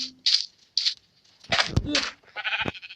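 Several sheep bleat in a Minecraft game, short nasal cries in quick succession, some overlapping, fairly loud and close, with a brief crack among them.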